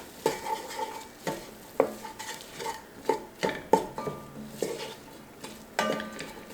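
A spoon stirs spices, garlic, salt, parsley, oregano and onion powder in a pot for lentil stew, making a steady series of close scraping and knocking strokes about once a second over a faint background sizzle.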